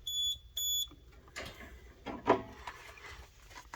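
A building fire alarm system sounds after a device is activated: two short electronic beeps open the clip, followed by quieter clicks and rattles from the equipment.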